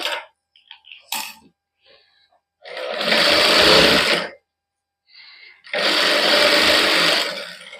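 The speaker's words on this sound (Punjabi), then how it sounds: "ਆਪਾਂ ਸਿੱਧਾ ਕਰਕੇ ਕੱਚੀ ਸਿਲਾਈ ਲਾ ਦਾਂਗੇ ਇਹਦੇ ਉੱਪਰ" A sewing machine runs basting stitches over a sleeve with fine lace in a boutique, two loud sustained whirring bursts of about two seconds each, separated by short handling clicks and rustles.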